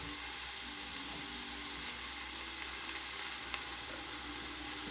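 Beef browning in an Instant Pot: a steady, fairly quiet hiss of sizzling meat throughout, with a few faint ticks and crackles and no talking.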